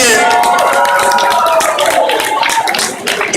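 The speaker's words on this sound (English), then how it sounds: "Show me a round of applause and hands up for who's building better costumes next year" An audience applauding loudly at a Comicon costume contest, dense steady clapping from a crowd that fades slightly near the end.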